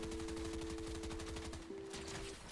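Rapid bursts of video-game gunfire spray in a dense, steady rattle for about two seconds, with a sustained synth tone running beneath, played with a keyboard joystick.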